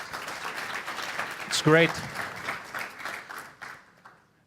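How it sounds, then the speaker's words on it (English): Conference audience applauding the organizers of an independent IT conference in Romania, a steady broadband wash of clapping that swells and then tapers away, with a voice speaking briefly over it. "they deserve a round of applause for that"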